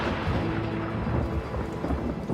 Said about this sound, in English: Rain has brought life back to this small patch of desert.